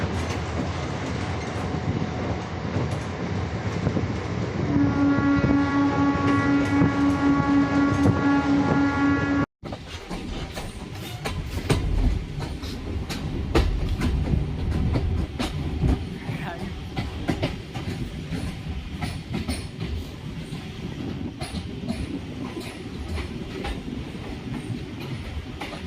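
Shaktinagar-Varanasi Intercity Express rolling along the tracks, a steady loud rumble with continuous clickety-clack; a horn sounds partway through before the carriage noise carries on unbroken.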